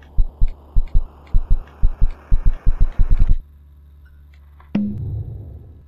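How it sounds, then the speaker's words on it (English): A computer heartbeat in the video game KinitoPET: loud, deep, regular thumps in pairs that quicken into a rapid run, then stop abruptly, followed by a sharp click and a low rumbling swell. "Why does my computer have a heartbeat now?"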